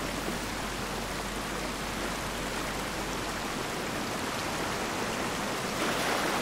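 Continuous rushing whitewater river in the VR kayaking game DownStream, a dense, steady roar of churning water that stays close and fairly loud throughout, with no voices.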